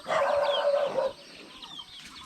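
Chickens in a remote hill village give a loud, close, drawn-out cluck or squawk, then fainter scattered clucks and chirps in the open air, with no one speaking.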